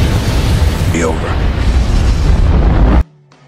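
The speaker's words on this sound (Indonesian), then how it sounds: "mereka pun kaget setelah melihat sebuah ledakan yang sangat besar dari arah kantornya si Pentor" A huge explosion from the 2020 action film Boss Level erupts as a loud, sustained roaring blast with rumbling debris, cutting off abruptly into near silence.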